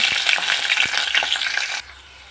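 Garlic sizzling in a hot pan for a ridge gourd and chana dal curry, a steady bright frying hiss with a few light stirring taps, close and alone, cutting off abruptly near the end.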